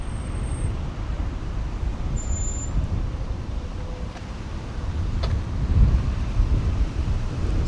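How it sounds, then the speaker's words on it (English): Steady wind buffeting a microphone outdoors above a suburban neighbourhood in Sidcup, London, a low, constant rumble with a slight swell near the end and no one talking. "it's a bit windy"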